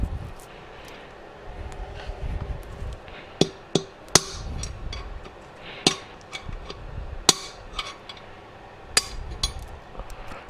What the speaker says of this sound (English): until the bearing pops out, 1 on each side, just a little nice little light taps